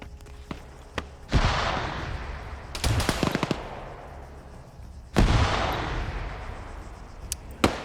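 FN MAG machine gun fire in a video game: loud sustained bursts of rapid automatic shots, with several sharp single cracks between them, echoing across a battlefield.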